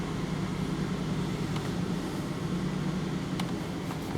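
A Ford Ranger engine held at high RPM and running rough, a continuous close mechanical drone with a few faint ticks and clicks over it.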